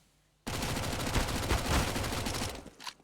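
Sustained automatic AK and MAC-10 spray on the Inferno map in Counter-Strike, a dense rapid burst of shots that starts abruptly, runs for about two seconds and then tapers off.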